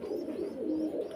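Pigeons at a pigeon farm coo in a low, continuous warble, close and fairly clear, with no voices over them.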